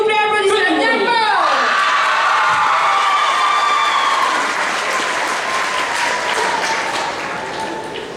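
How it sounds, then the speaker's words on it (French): A loud audience at a roleplay contest bursts into applause with shouted cheers and whoops, some sounding like young voices. The clapping and cheering stay dense and close, easing off slightly toward the end. "S'il vous plaît, applaudissez bien fort!"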